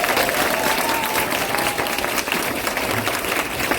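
A large seminar audience breaks into loud, dense applause, a continuous roar of many hands clapping close by with crowd noise blended in.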